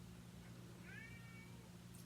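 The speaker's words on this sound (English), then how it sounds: "There's my cat Jimbo meowing loudly" A pet cat gives a single drawn-out meow, moderately close, over a steady low background hum with no talking.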